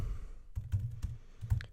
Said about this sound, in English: So if we open a new tab, type in